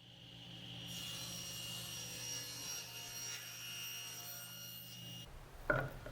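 A saw cuts through a plywood piece for a tenoning jig in a steady, continuous rasping stroke lasting several seconds, fairly close, then stops with a short clatter.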